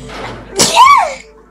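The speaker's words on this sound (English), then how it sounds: "I'm gonna sneeze, guys." One close, sharp sneeze: a quick breathy intake and then an explosive burst with a rising and falling voiced tail.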